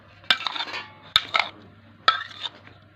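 Green chillies and tomatoes are stirred in a bowl with a metal spoon, giving three sharp clinks of utensil against the dish, each followed by soft scraping, close and clear with no voices.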